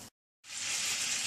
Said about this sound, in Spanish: Ponemos en un sartén 3 cucharadas de mantequilla y esperamos que se derrita.